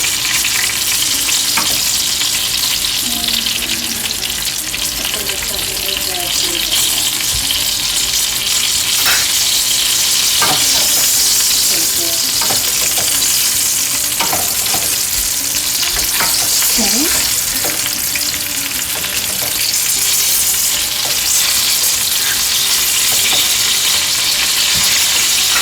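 Sea bass fillets fry in a hot pan, a steady broadband sizzle running throughout with occasional pops, crackles and faint utensil clinks, close and fairly loud, with no voices.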